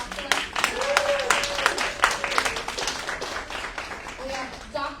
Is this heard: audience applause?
yes